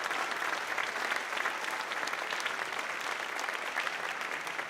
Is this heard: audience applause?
yes